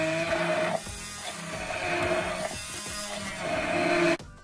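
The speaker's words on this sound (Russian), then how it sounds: "перебиваем погружным блендером в пюре." An immersion blender purees bananas for a homemade banana cake, giving a steady whirring drone that stays loud and continuous for about four seconds before cutting off abruptly, with no voices.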